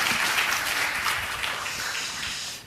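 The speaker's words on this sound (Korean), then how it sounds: "큰 박수 부탁드리겠습니다" Sustained applause from a conference audience welcoming a professor to the stage, steady and dense throughout before tapering slightly at the end, with no talking over it.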